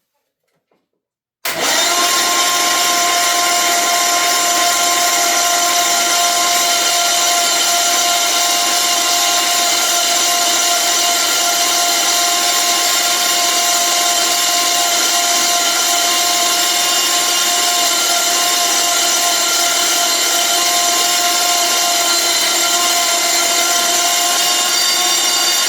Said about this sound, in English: So all we need is this single 12 volt, so the motor should turn over.